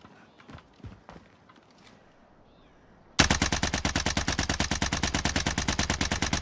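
Automatic gunfire in an online shooter bursts in abruptly halfway through as a loud, fast, evenly spaced stream of shots, after a quieter stretch of scattered soft clicks and thuds.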